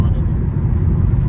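A car speeds along the Samruddhi expressway, heard from inside as a steady, loud low road and engine rumble with no break. Someone talks over the drone.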